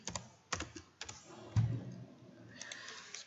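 Close computer keyboard typing while a name is entered for a process in a small software project: a few distinct keystroke clusters and clicks separated by short pauses, with no speech.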